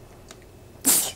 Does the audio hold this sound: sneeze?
yes